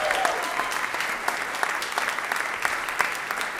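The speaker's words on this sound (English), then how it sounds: "Let's give all our pianists a great big round of applause" A school audience claps steadily after a piano recital, a dense, even round of applause with a few sharper claps standing out and no talk over it.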